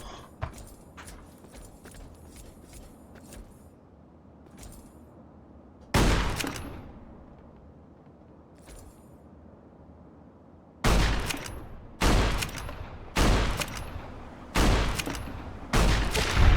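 Shotgun blasts in Fallout New Vegas ring out against a super mutant: one loud shot, then a rapid run of five heavy booms, with faint clicks and rustles between them.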